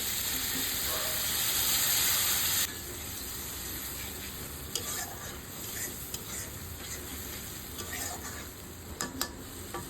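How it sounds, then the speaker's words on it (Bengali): Ground spice paste frying for a bata fish curry, with a loud hissing burst at first that settles into a steady sizzle, punctuated by sharp spoon scrapes and clinks against the pan. "এই মশলাটা ভালো করে কষিয়ে নিতে হবে।"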